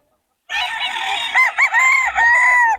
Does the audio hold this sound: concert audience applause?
no